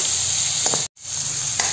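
Ridge gourd pieces and peas sauté in hot oil, a close steady sizzle with a couple of brief stirring scrapes and a momentary cut partway through.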